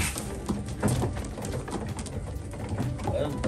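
Breeding pigeons cooing in a loft, several soft overlapping coos repeating in quick succession, close by, with a voice faintly in the background.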